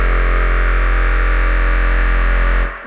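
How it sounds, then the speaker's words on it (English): Thick ambient drone from an old 1980s keyboard synth sent into reverb with a chorus pedal at full rate and depth, sustained loud and steady for nearly three seconds before tailing off, no voices. "That gives it this really thick ambient sound."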